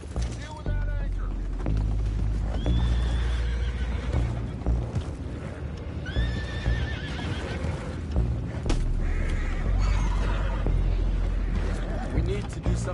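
Horses whinny and neigh repeatedly amid clopping hooves and a busy, rumbling scene in Red Dead Redemption 2, with several loud calls rising over a low, heavy background; voices speak at times.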